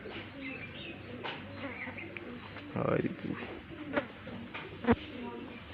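Pigeons from a home breeding pair coo softly in a loft, low repeated calls with a few louder bursts, heard under and between people talking.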